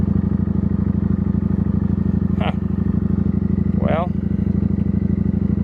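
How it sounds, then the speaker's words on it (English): An idling salvage-title motorcycle engine rumbles steadily and closely while warming up, with a fast, even pulsing throb; someone speaks briefly over it. "Since it's running, going to let it warm up."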